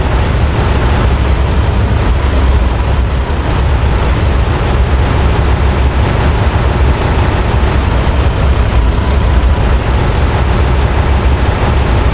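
M1 Abrams tank in Minecraft Bedrock Edition, a loud, dense blasting roar that stays continuous and unbroken for several seconds, filling the mix with no voices over it.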